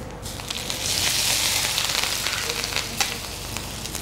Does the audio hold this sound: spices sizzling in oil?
yes